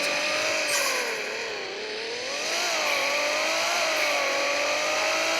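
A fast video-game car, worth a million dollars, whines at high revs with a steady engine drone that dips and rises as it slows and speeds up again, loud and close, no voices.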